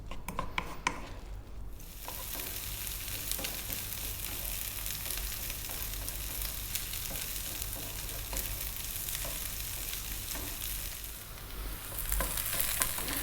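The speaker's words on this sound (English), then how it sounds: "I want to fry the onions, but I don't want them, blackened" Onions frying slowly over below-medium heat in a pan, a steady, even sizzle with light crackle holding at close range throughout, with no talking.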